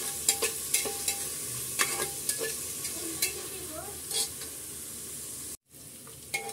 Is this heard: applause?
no